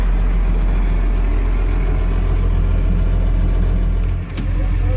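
A Unimog U1300L truck's diesel engine idles steadily while warming up, a low continuous rumble heard close and loud, with a brief dip near the end.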